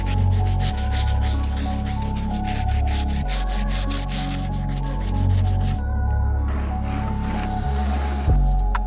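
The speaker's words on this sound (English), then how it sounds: "So we gotta get these soles as clean as possible using our Stiff Bristle Brush." A stiff bristle brush scrubs the grimy soles of Air Jordan 6 Slam Dunk sneakers during a restoration, giving steady rasping strokes in repeated bursts, close and fairly loud, with a low hum running underneath.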